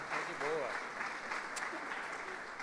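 Church congregation applauding during a Portuguese-language sermon, a brief, moderately loud wash of clapping with a voice speaking over it.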